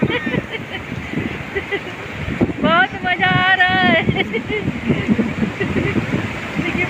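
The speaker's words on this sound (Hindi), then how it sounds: "देखिए पीछे से लहर पूरी आ रही है" Ocean waves wash in at Puri beach in a steady rushing surge with wind noise, under cheerful talking voices close to the microphone.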